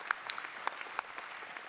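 Applause from an award-ceremony audience greeting a film project grant recipient: a brief burst of many hands clapping, with sharp scattered claps over a dense, steady patter.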